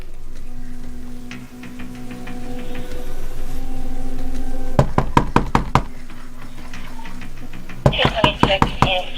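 Sharp bursts of knocking on an apartment door, one rapid run midway and another near the end, loud and close against a hallway hum, with faint voices in the background.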